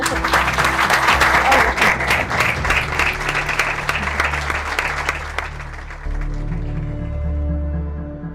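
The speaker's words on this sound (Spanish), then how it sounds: "un fuerte aplauso para ellos" Loud, dense applause from an audience at a talk on the Enneagram, sustained for several seconds before fading as music or a low hum continues underneath.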